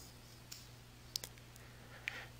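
Sparse, faint clicks of a computer mouse, three or four single sharp taps spread over a quiet room hum, close and isolated.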